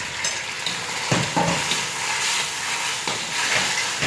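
Tofu going into a thickened sauce in a claypot, a steady loud sizzle and bubbling with a few soft stirring knocks, close and continuous without talk.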